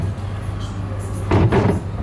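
A large plastic drawer slides in a Samsung Showcase RH57H90307F refrigerator, a soft rumbling glide that swells near the end over low room hum.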